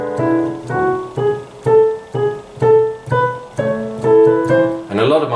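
Piano plays a short, even run of quaver notes, each struck cleanly at a steady pulse, close and moderately loud, with a brief noisy shuffle at the end.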